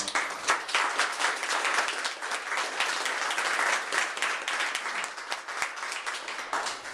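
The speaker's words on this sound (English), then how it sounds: "I just want to give John a round of applause and appreciation for working on it." An audience applauds John at an academic success center dedication ceremony, a moderate round of clapping with individual claps distinct, fairly close and steady, thinning slightly toward the end.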